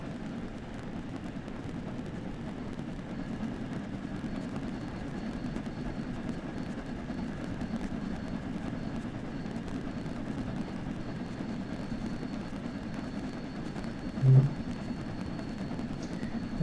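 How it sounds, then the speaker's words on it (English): A steam locomotive hauls a very long, heavy railtour train slowly up a steep gradient in West Cornwall, heard as a steady, muffled low rumble and drone from on board, with no distinct exhaust beats. "We're not really accelerating to any great degree, but then we have got a absolutely massive train."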